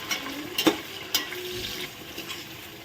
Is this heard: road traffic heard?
no